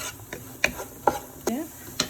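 Sliced shallots and crushed garlic sautéing in a pan, with a soft sizzle under four distinct scraping strokes of a spatula at roughly even intervals.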